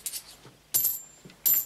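Small metal coins clink and drop in a few separate bright strikes with pauses between, handled close up around a small solid box for a magic trick.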